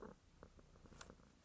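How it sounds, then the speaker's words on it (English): A soft, low cat purr close by, quiet and rumbling, with a few faint rustles and a brief scratchy noise. "I don't know if you can hear my cat purring"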